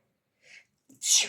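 A single sharp sneeze, preceded by a soft inhaled build-up, close and loud in an otherwise quiet room.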